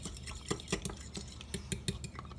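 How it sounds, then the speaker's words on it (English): An egg being whisked into a wet mixture in a bowl for homemade flatbread, heard as quick, light clinks and scrapes of a whisk against the bowl in an irregular rhythm, close and fairly quiet. "Now it is going to go into our wet mixture. Whisk it all in."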